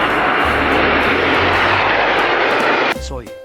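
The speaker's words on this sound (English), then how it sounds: "And this one is a plane, my friend." A toy airplane plays a loud, steady recorded aircraft engine drone that cuts off abruptly near the end, leaving a brief electronic chime.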